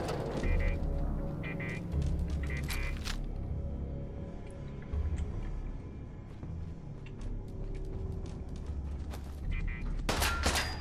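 A machine gun turret fires in the video game Fallout 4 as bursts of rapid gunfire with sharp impacts and a louder volley near the end. Faint game ambience and low voices sit beneath.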